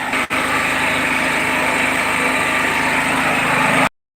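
A portable generator engine runs steadily and loudly close by, with a brief dropout near the start, then cuts off abruptly as it is shut down.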